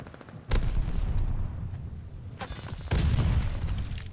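Gunfire and explosive booms in a ranked online shooter match, two sharp loud blasts each followed by rumbling decay, alone without talk.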